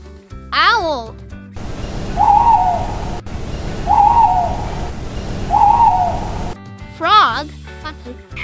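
An owl gives three evenly spaced hoots, moderately loud and near, set between short spoken words at the start and end with light music underneath.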